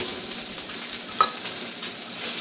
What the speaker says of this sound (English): next, the onion, some garlic, get that going